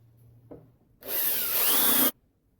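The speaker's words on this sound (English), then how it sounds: "going through with a 3mm bit and drilling all the rest of the 10 holes" A power drill with a 3mm bit runs steadily for about a second, a loud whirring bore through material, preceded by a faint tap and followed by quiet.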